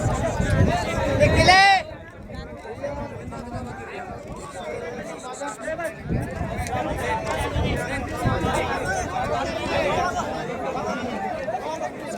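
A crowd at a village bullock cart race keeps up a steady babble of overlapping voices and chatter, with a louder surge at the start, then an ongoing busy outdoor hubbub.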